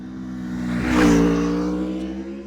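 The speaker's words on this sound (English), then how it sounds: "a brilliant exhaust note" A 2026 Aprilia RSV4 Factory 1100 motorcycle engine revs up sharply and then settles, its exhaust note rising to a peak before easing back into a steady idle drone, close by.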